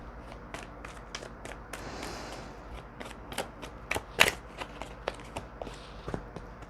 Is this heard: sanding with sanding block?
no